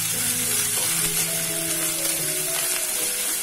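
Curry leaves sizzle in hot oil while a fish curry without coconut is cooked, giving a steady, close, hissing fry that carries on without a break and with no talk.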